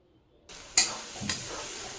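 A spice paste of turmeric, chilli, salt and chopped tomato fries in oil for a chicken curry. After a quiet start, a stirring clatter hits the pan and a steady close sizzle carries on alone.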